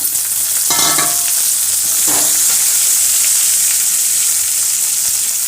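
Onions and tomatoes frying in a pan for a prawn pepper curry give a loud, constant close sizzle, with two brief bursts of stirring and scraping early on.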